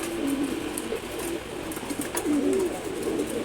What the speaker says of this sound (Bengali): এগুলো রেসার কবুতর, অ্যাকচুয়ালি রেসারের একটা জাত